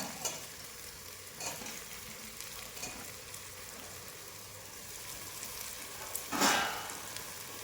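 Potatoes, pigeon peas and other vegetables go into a pot of frying masala khichadi, a soft continuous sizzle with light stirring clatter and a louder splashy sizzle burst late on.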